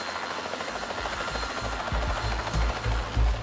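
Helicopter flies overhead, its rotor beating a loud, rapid low thumping that grows stronger and nearer over a few seconds.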